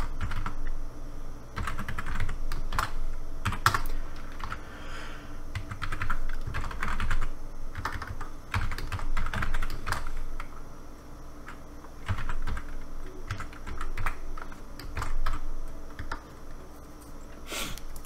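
Code being typed for a GameMaker project on a computer keyboard: a close stream of quick, uneven key clicks comes in bursts with short pauses, and no one speaks.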